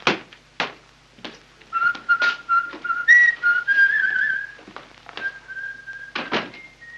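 A man whistles a cheerful, wavering tune. Sharp thunks and knocks like footsteps or a door closing come and go around the whistling, and no one speaks.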